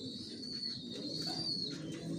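Racing pigeons coo softly inside a loft, a low murmuring coo over a steady background with a faint higher chirp drifting across, no speech heard.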